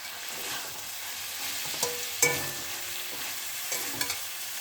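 Cumin paste frying in a pan for a vegetarian paneer dish, a steady close sizzle with a few sharp spoon scrapes and clinks against the pan, no voices.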